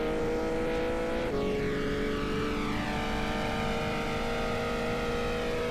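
Steady, loud engine drone from a Peugeot 908 HDi FAP diesel race car lapping Circuit de la Sarthe, holding a high sustained pitch with a brief downshift dip early on, heard from onboard with no talking.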